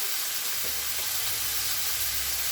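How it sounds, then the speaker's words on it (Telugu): Onions and tomatoes frying in a pan for a rajma and brinjal curry give a steady, dense sizzle, with a couple of soft stirring knocks and no talk. "ఉల్లిపాయలు వేగిపోయండి టమాటాలు వేసుకుందాము టమాటాలు వేసుకొని సరిపడా ఉప్పు వేసుకుందామండి"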